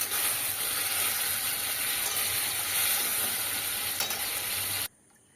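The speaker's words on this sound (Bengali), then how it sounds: "এবার বেশ ভালো করে মশলাটা একটু কষিয়ে নিতে হবে" Spice masala for rajma sizzles and fries steadily in a pan as it is sautéed and stirred, a close, continuous hiss that cuts off abruptly near the end.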